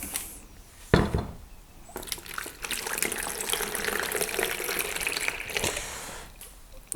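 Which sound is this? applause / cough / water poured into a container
water poured into a container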